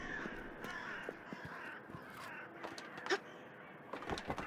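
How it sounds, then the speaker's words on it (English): Crows caw repeatedly in the video game My Memory of Us, harsh calls scattered at irregular intervals over a soft ambient background, moderately distant. "I hear crows."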